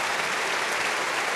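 Business leaders at a Medef gathering applaud the French Prime Minister's speech, giving dense, sustained clapping from a large audience that fills the hall steadily without a break.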